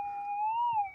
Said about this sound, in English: You can hear it too. I think the 6000 picks it up just a little bit better though.